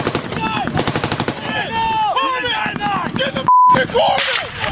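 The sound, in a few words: gunfire during Marine firefight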